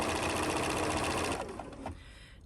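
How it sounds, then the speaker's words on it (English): Sewing machine stitching quilt block pieces, a fast steady whirring buzz close up that slows and stops after about a second and a half, followed by a few small clicks. "So I'm going to sew this."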